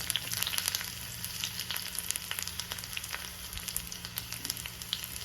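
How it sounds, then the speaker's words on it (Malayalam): Shallots and dried red chillies crackle in hot oil with mustard seeds for a Kerala-style tomato dal tempering, a close, continuous sizzle dotted with small pops and spits. "ഇതിലേക്ക് കൊച്ചുള്ളി ഇട്ട് കൊടുക്കാം ഒപ്പം തന്നെ നമ്മുടെ വറ്റൽ മുളകും"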